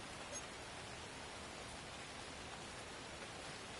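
Steady rain pours over a football match in an EA Sports NFL game between the Raiders and Chiefs, a dense even hiss filling the whole stretch at low level with no pauses and no voices.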